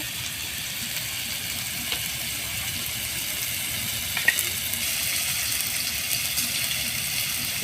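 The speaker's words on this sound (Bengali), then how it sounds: "চিকেনটাও আমি দিয়ে দেবো, দিয়ে ভালোভাবে ভেজে নেবো চিকেনটা।" Chicken frying in a pan with tomato, onion and garlic for Chinese-style Maggi noodles, a steady moderate sizzle with an occasional sharp tick of the utensil.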